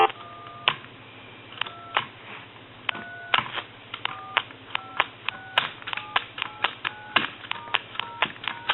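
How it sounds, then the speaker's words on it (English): Numbers dialed on an original Princess telephone with an amplified handset, producing a series of clicks and short beeping tones in irregular bursts, close and moderately loud over a low hum. "and we'll go ahead and dial some numbers."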